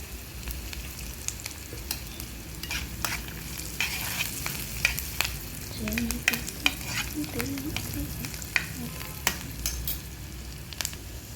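Turmeric, dried red chillies and curry leaves fry in a tempering of oil with a low, steady sizzle, broken by light stirring taps and scrapes from a utensil.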